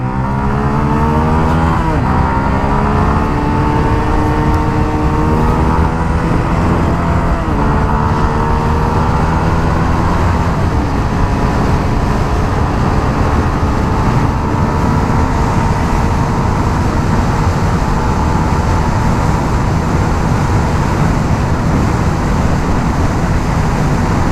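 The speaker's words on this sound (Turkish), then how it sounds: "Bir basalım bakalım şuradan bu alet kaç gidiyormuş." A Mondial Drift L 125 cc motorcycle accelerating at full throttle, its engine note rising steadily through the gears, loud and close, with continuous wind and engine roar throughout.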